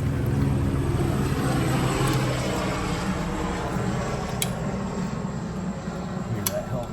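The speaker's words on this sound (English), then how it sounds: "Hear that helicopter go by?" Helicopter flying over near a Navy base, a steady broad rumble with low rotor throb that holds throughout, moderately loud and continuous, with some faint background noise.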